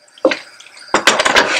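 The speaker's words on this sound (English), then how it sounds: "I'm going to add about 5 to 6 tablespoons of water." Water poured from a spoon into a cooking pot holding ground beef, two short splashing bursts with a brief sizzle, close and fairly loud.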